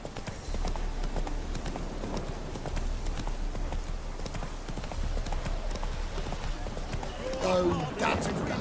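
Roach, Geralt's horse in The Witcher video game, trots along with a steady clip-clop of hooves beneath a constant background bed of sound, and a voice speaks briefly near the end.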